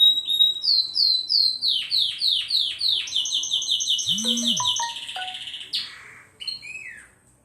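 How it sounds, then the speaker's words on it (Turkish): Bright, repeated whistling chirps in a rapid descending series, followed by assorted trills and squeaks from parrots singing close by. "O ötüyorlar, çok güzel ötüyorlar."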